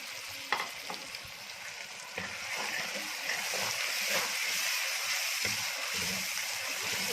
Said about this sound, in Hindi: थोड़ी देर मसाले के साथ टमाटर फ्राई करते हुए इनके ज़रा नरम होने तक फ्राई करेंगे